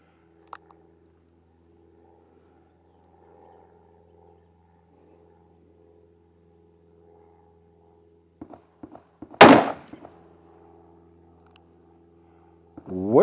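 A Smith & Wesson 629 Competitor Performance Center revolver, loaded with hand-loaded rounds, fires one sharp, loud shot after a long quiet stretch broken only by faint handling clicks.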